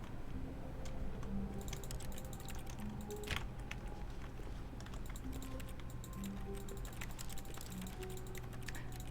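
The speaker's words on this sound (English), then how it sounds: "I like the clacky noises, so I keep clicking things." Clacky keyboard keys clicking steadily while playing The Stanley Parable, a dense run of close, crisp keystrokes and mouse clicks over a low constant hum, with no talking.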